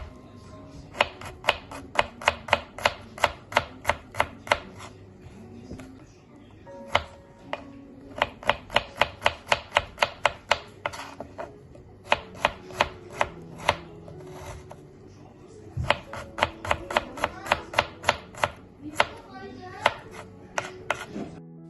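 Garlic chopped with a knife on a board: bursts of rapid, crisp close-up knocks in fast rhythmic runs, broken by short pauses, with no voice.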